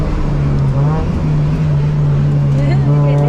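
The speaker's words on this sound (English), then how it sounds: "Brake and do the downshift nice and in sequence 5 for 3-2." Car engine on the Sepang Circuit track droning loudly and steadily throughout as the driver brakes and downshifts on the way into pit entry, with no pauses.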